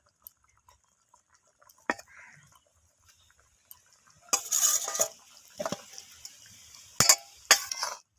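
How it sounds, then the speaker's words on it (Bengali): Fried egg omelettes being stirred into a pea and onion gravy: intermittent clinks and scrapes of a utensil against the pan, sparse early on, then denser bursts of stirring and clattering in the second half, with no one talking. "গ্রেভির সাথে ডিমের অমলেটগুলোকে একটু নাড়াচাড়া করে মিশিয়ে নিচ্ছি"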